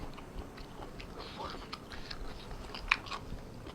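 Crunchy food is bitten and chewed close up, giving soft, repeated crackles and munching with one sharper crunch late on, over a low murmur.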